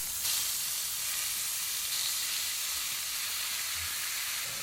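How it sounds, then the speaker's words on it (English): Chorizo sausage sizzles in a red frying pan, a steady loud crackling hiss with faint pops underneath, continuous throughout with no talking. "Add our chorizo into the lady in red pan."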